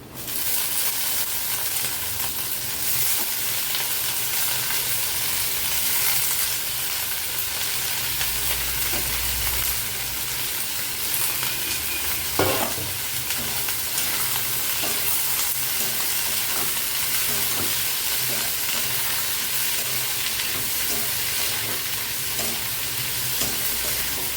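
Carrot, beans and green chillies stir-fry with browned onions for restaurant-style veg fried rice, a continuous loud sizzle with repeated scraping stirs and one sharp clatter midway, no voices.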